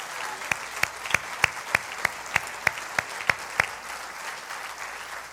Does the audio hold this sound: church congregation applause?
yes